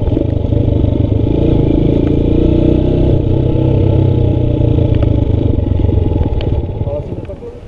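A motorcycle accelerates and shifts gears without using the clutch, its engine running loud and close with a rough, clattering drone that holds steady and then tapers off near the end.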